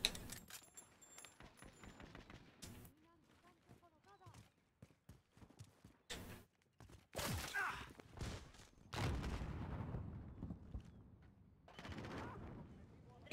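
Gunfire in the video game Modern Warfare comes in short, loud bursts of shots over a busy in-game soundscape, with a voice talking around them.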